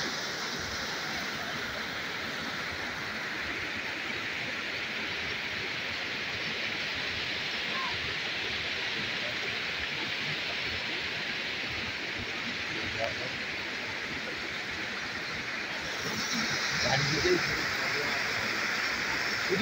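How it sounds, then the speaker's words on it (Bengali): A rushing waterfall and fast-flowing stream make a steady, loud hiss of water that holds evenly throughout, swelling slightly near the end. "শুধু ঝর্ণা, তাছাড়া কিছু না। জলের আওয়াজ আপনারা নিশ্চয়ই শুনতে পাচ্ছেন।"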